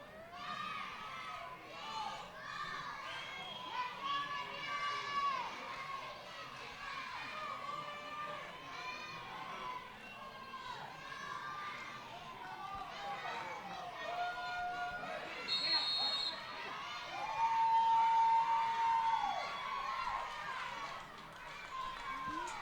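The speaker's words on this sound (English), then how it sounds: "Crowd's getting a little lively here as we come to a close of this second half with 4 minutes left." Packed-house crowd at a 6U youth football Super Bowl, rising in lively chatter and shouts with children's voices and scattered cheers, a steady loud wash of noise for the whole stretch, with occasional sharp whistle-like calls.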